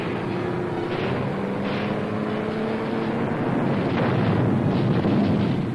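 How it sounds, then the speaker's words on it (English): Tanks grinding slowly forward near Motoyama Airfield on Iwo Jima, 1945: a steady, loud mechanical rumble with droning tonal whine throughout, heavy and continuous with no pauses. "tanks slowly grind ahead"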